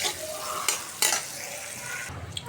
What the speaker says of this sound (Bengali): চিংড়ি মাছগুলো দিয়ে দিলাম পেঁয়াজের সাথে, ভালোভাবে ভেজে নিব